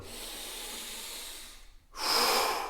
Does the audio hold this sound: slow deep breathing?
yes